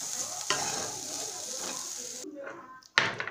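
Vegetables sizzling and frying in a pan seasoned with black pepper, a steady close hiss with stirring scrapes and a short pause before the frying resumes.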